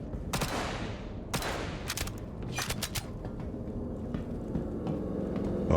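Bursts of gunfire in a shooter video game, several quick clustered shots in the first three seconds then fainter scattered pops, over a low rumbling background.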